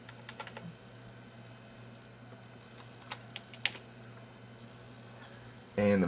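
Quiet typing on a computer keyboard, scattered light key clicks and taps over a steady background hum, with a louder thump at the end.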